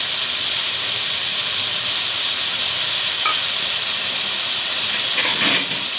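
Curry leaves dropped into a simmering pot of vegetable dalcha give a loud, constant sizzling hiss up close, with a couple of faint clinks near the end and no speech.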